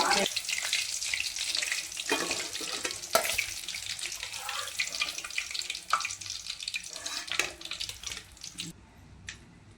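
Chicken cheese balls deep frying in hot oil give a steady, dense bubbling hiss with small sharp crackles, fairly close and continuous for the whole stretch, with no voices.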